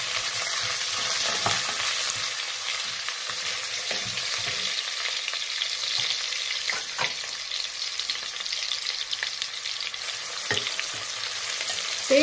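Crushed ginger, garlic and green chilli sizzle steadily in a hot pan for coconut rice, a close, even frying crackle with faint stirring scrapes and no voices.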